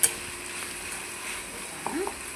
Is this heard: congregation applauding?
no